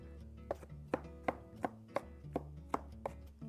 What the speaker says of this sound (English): I'm going to keep chopping away here.